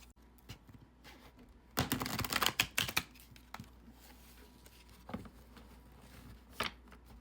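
Tarot cards are shuffled in a quick burst of dense riffling clicks, followed by a few softer isolated snaps as cards are drawn, all quiet and close with no talking.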